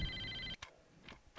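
Phone ringtone from a mobile in the video game Saints Row 2, a steady electronic ring with tonal bands lasting about half a second and then cutting off, followed by faint game sounds.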